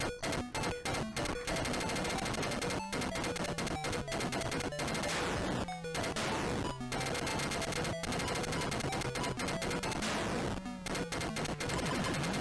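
Rapid-fire shooting in the Atari 8-bit game Screaming Wings, a dense, relentless stream of loud electronic gunfire bursts that barely pauses over an underlying drone, with occasional rising and falling tonal sweeps.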